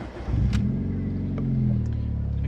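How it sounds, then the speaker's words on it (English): Mitsubishi Evo X engine cranks and catches, settling into a steady, deep idle rumble close by, with a few brief clicks over the running engine. "Okay, so we're gonna start the car up."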